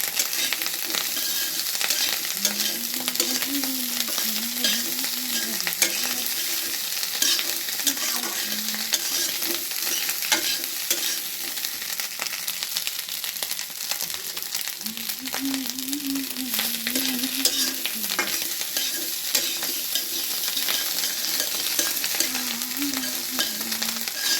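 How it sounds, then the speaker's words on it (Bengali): Constant close sizzling of mash frying in a pan, cooked until crisp and slightly charred, with scraping stirring throughout, while a faint voice hums or speaks softly in the background. "একটু পোড়া পোড়া ভাজা ভাজা করবো"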